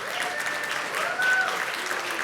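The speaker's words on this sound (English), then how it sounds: "can I get a round of applause for our team?" An event crowd gives a round of applause for the organizing team, sustained clapping at moderate distance filling the whole moment evenly, with a brief swell midway.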